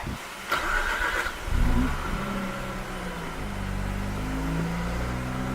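A 2007 Mazda RX-8 rotary engine cranks and catches after a brief electrical hum, then settles into a steady, close, droning idle.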